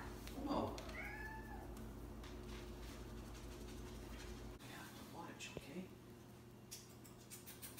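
A cat meows faintly a couple of times near the start while people talk over a steady background hum.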